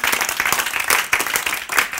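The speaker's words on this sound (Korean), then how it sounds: "박수 좀 보내야 되지." Lecture-hall audience at a Bible-and-science talk claps in a dense, steady burst of applause lasting the full two seconds, with no voice on top.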